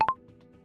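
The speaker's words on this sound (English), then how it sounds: "Gotta wait for the beep." Two short electronic beeps in quick succession, like keypad tones, sound close and clear, then fade into a quiet room hum.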